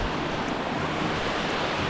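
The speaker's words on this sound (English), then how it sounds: "Creek flowing down very nicely from here and down." A mountain creek flows along a hiking trail in a valley, giving a constant, dense rushing hiss close by with slight wind, steady throughout and without voices.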